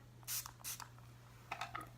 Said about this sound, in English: spray it with a little Fix Plus here